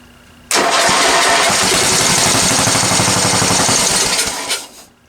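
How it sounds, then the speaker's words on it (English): Small lawn tractor engine, a free machine with a suspect carburetor, cranks briefly then catches and runs loud and steady with a rapid chugging beat before cutting out near the end. "Let's get it to fire up and see whether it's actually going to then draw fuel out from the carburetor or not."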